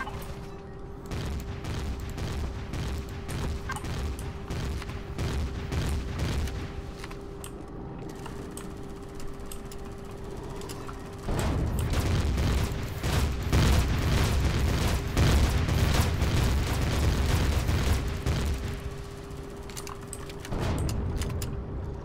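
Plasma cannon fire in the space-survival game Empyrion comes as a rapid series of sharp booming bursts over a steady mechanical drone. The bursts turn louder and denser partway through, then ease back near the end.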